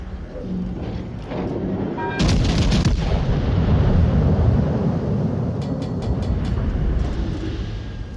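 Naval guns fire in a World of Warships Legends battle, heavy booming salvos with a dense rumbling roar that swells and lingers, followed by sharper distant cracks, with no talking over it.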